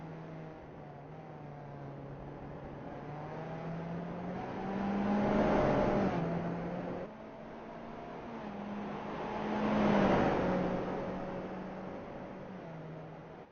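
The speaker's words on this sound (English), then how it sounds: "So half a lap left to go for Corley, as he's just slowing that car down." A Skip Barber race car in iRacing at Mosport circles after its final lap, its engine droning steadily with two swells as it passes and eases off, moderately loud with no talk.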